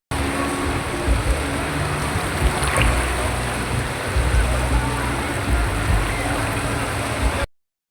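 Sea waves washing steadily against a beach shore, a broad continuous rush of surf heard close, with no speech over it, before the sound cuts off abruptly at the end.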